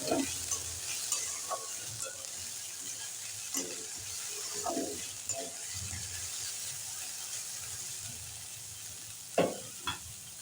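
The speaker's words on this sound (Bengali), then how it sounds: "শুধু নুন দিয়ে এটাকে ভালো করে ভেজে দেব" Egg mixture frying with salt in a pan, a soft steady sizzle under intermittent scraping and stirring strokes, with a couple of sharper clatters near the end and no talk.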